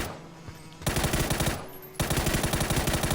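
Rapid automatic gunfire in PUBG on the Miramar map, aimed at a player on a bike: two loud, close bursts of fast shots separated by a brief pause.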